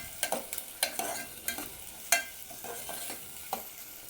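Thinly sliced onions frying for an Andhra-style chicken curry crackle softly while a spatula scrapes and taps the pan in repeated sharp strokes, fairly quiet and close with no one talking.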